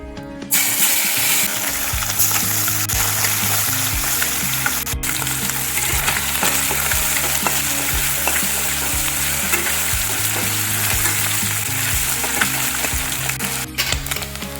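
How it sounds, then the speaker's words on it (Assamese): Fish frying in hot oil in a kadai for an Assamese poka komora fry, a dense, loud, unbroken sizzle with steady crackling and occasional clicks, close up and with no one speaking. "তেলখিনি গৰম হৈ আহিলে ইয়াতে মই মাছখিনি ভাজি ল'ম"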